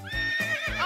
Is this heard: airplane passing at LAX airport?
no